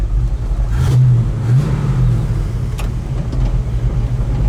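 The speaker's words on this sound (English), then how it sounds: "Car's been idling here for quite some time." A 1970 Chevelle SS V8 idles steadily and close by, a deep continuous rumble with a slight swell in pitch partway through, no voices over it.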